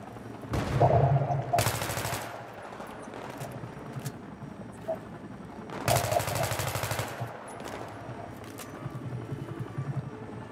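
Gunfire in the video game Battlefield 3: two long, loud bursts of automatic weapon fire with quieter scattered shots and rumble between them.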